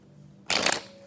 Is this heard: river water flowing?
no